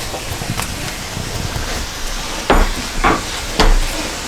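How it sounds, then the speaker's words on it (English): Steady frying sizzle of onions and mushrooms in a pan, with a few sharp clanks of a utensil against the pan near the end. "Sizzle up a little bit."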